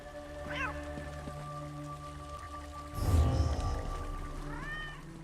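In the Elder Scrolls Online game, a pet cat in an embassy house meows twice, soft rising mews at the start and near the end, separated by a brief rushing ambient swell over a steady, quiet game-music drone.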